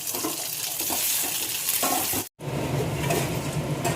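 Whole cumin, ginger paste, cumin powder and a little coriander powder sizzle steadily in a hot pan while being stirred, with a loud, dense crackle and a momentary gap partway through.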